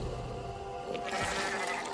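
Goat bleating amid a horror scene, a short bleat rising partway through over a steady droning background, moderately loud with no talk.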